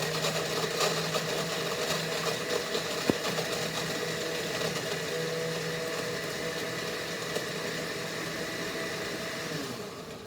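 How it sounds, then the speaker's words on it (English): A blender whirs through an Orange Julius drink with ice, a steady motor drone with a gritty rattle and a sharp knock near the start, running continuously before winding down at the end. "So we're just going to blend."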